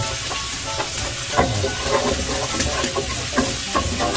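Onion sizzling in melted garlic butter in a pan, a steady close hiss with soft crackles and occasional stirring scrapes, no speech over it.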